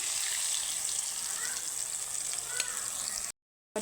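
Soaked spice paste and chopped green chilli hit hot oil in a pan, giving a steady, close hiss of frying that runs unbroken for about three seconds before a brief dropout.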